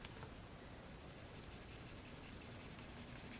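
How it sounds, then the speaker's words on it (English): A pen writes on paper while a cash-envelope savings challenge is filled in, giving a faint, close scratching over a quiet room hum. "And then right here I'm going to write down"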